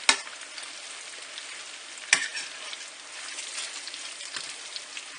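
Bacon frying in a pool of its own rendered grease, a steady crackling sizzle throughout with a couple of sharper pops, close and moderately loud with no talking.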